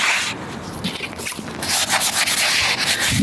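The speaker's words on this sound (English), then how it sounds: "Just clean it up with some brake cleaner." Cleaning the surface of a clutch pressure plate with brake cleaner, close rubbing and wiping strokes with brief hissy spray-like bursts, irregular and fairly loud, no voices.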